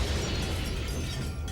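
Dense booming explosions and bursts of gunfire in the video game Codename: Panzer Phase One rumble continuously for a moment, heavy and low, with no voices over them.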